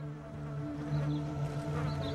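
Asian honey bees of the genus Cerana give a steady, close insect drone, a low harmonic hum that holds evenly for a couple of seconds with no voices over it.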